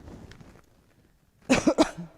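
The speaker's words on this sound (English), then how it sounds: "sorry, I've just got to lose this cough" After a quiet stretch with faint murmuring, a person coughs three times in quick succession, close and fairly loud.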